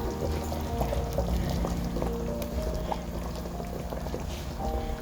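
Paneer goes into gravy boiling in a pan, with a steady bubbling, simmering wash and small plops and splashes close by throughout.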